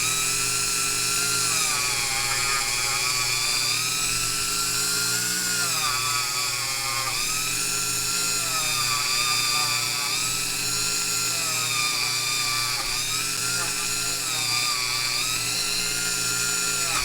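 A rotary tool runs continuously while polishing the back of a metal cabochon bezel setting, a steady high-pitched whine with slight pitch wavers as pressure changes, close and loud throughout with no talking.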